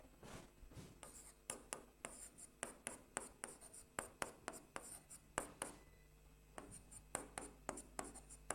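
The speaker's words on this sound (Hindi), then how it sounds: "इसको ठीक से लिखते हैं थोड़ा" Writing on a board in a maths classroom comes as a close, quick series of sharp scratchy strokes and taps in irregular bursts, with brief pauses between letters and no talking.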